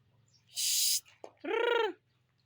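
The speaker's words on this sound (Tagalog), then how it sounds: "Ayun yung mga manok namin." Chickens call nearby: a harsh hissing squawk, a brief click, then a loud, drawn-out clucking cry over a low background hum.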